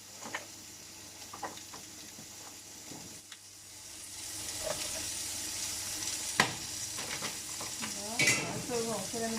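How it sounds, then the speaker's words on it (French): Lardons frying in a pan for a zucchini and bacon tart, a soft steady sizzle with occasional scraping and stirring clicks, growing slightly louder as they cook. "Maintenant on va rajouter les lardons."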